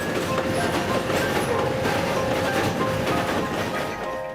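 An old train with rusted wagons bound for the Hospital Colônia runs on rails at close range: a loud, steady rumble with rapid clickety-clack and faint metallic squeals, and no talk.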